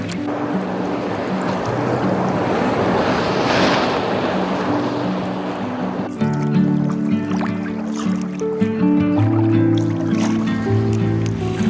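Ocean swell surging and breaking near a sea kayaker, a loud rushing wash of surf that swells and fades with gusty wind noise on the microphone, later joined by a tonal hum and knocking.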